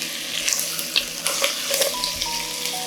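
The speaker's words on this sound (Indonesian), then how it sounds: "kita akan tumis sebentar ayamnya di sini sampai dengan mengeluarkan minyak" Chicken wings sauté in a pan with a steady, close sizzle, broken by scattered crackles and spatula scrapes as the pieces are stirred; no one speaks.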